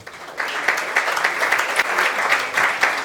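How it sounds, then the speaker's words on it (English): Audience applause at a startup pitch meetup in Riga, a steady wash of many hands clapping that swells in after a brief lull and carries on evenly throughout. "Big applause."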